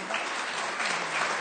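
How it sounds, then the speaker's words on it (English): Audience applause after a presentation at an art exhibition event, a short steady wash of clapping at moderate level with no voices over it. "if everyone could give a big round of applause for everything"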